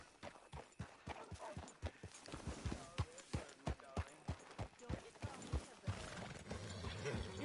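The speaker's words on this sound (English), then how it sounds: "That's a good horse." Horse hooves clop in a steady, rhythmic gait in the video game Red Dead Redemption 2, loud and close, with a whinny and outdoor ambience near the end.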